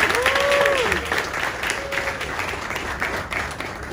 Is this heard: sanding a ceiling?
no